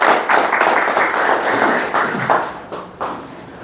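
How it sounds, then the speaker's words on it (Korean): Audience applause at a general meeting and seminar, a dense burst of hand clapping that holds steady and then thins out toward the end with a few last claps. "나름대로 최선을 다한 거니까 박수 한번 쳐주세요."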